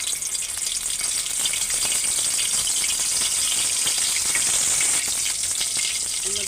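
Ground spice paste hitting hot oil in a home kitchen while a curry is cooked, giving a loud, steady, close sizzle and crackle that holds without a break throughout.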